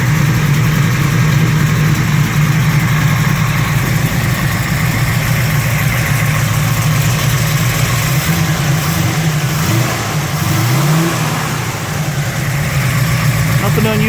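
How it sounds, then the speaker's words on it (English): 1968 Chevy Camaro V8 idling with some exhaust noise from one bank, a loud, steady low engine drone throughout with a few brief pitch wobbles near the end. "Might be a little bit of exhaust noise coming out on this right bank."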